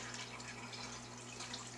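Water squeezed out of a mushy batch of Monster Clay pressed against the sides of a bowl, a steady wet trickling and dripping that runs on without pause, fairly quiet with a faint low hum underneath.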